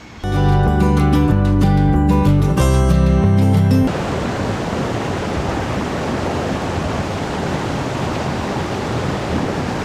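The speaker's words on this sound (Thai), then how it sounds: "ตอนนี้เราก็เดินทางมาถึงที่ น้ำตกวังกวางนะครับ" Wang Kwang waterfall at Phu Kradueng roars as a dense, steady rush of falling water, loud and continuous, with tonal music over the first few seconds before the water is heard alone.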